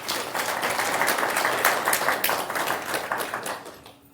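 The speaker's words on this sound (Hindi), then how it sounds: "ताली बजाओ थोड़ा सा अच्छी तरह" An audience applauds on request at a spiritual class, a dense, steady crowd of clapping that holds for several seconds before thinning and trailing off at the end.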